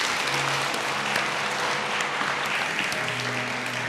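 Warm congregational applause at a church gathering honoring course graduates, a steady, dense wash of clapping that continues evenly throughout with a faint low hum beneath it.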